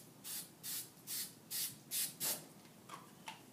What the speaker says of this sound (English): All I'm going to do is spray the back side of my stencil, but do a very light spray.